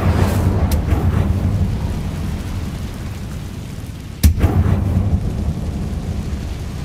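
The Incendio fire spell in Hogwarts Legacy gives a low, rumbling roar of flame, then a sharp burst around two-thirds through, followed by continued crackling rumble.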